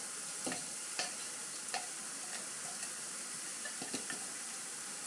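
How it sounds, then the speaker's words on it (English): Carolina Reaper chillies go into a hot pot, giving a constant sizzling hiss broken by a handful of sharp stirring knocks and scrapes spaced irregularly, close up and without talk. "Okay, I'm now adding the chilies."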